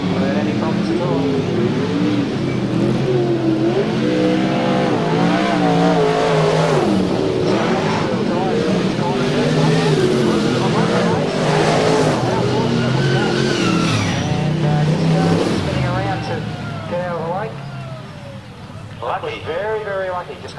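V8 dirt modified race cars roar around a speedway toward the finish, loud rising and falling revs from several engines, then thinning out near the end, with commentary running over them.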